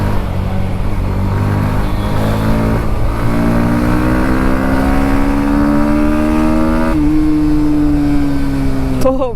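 A 2024 Bajaj Pulsar NS160, a 160 cc motorcycle, pulls hard on the road, its engine note climbing steadily in pitch over several seconds before a quick shift, loud and close to the rider.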